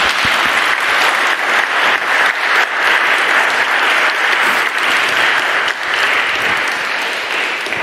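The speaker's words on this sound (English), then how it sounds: "Thank you, Dr. Reichert. Round of applause." An audience applauds a speaker at a social justice talk. The clapping is loud, dense and sustained, with no one speaking over it.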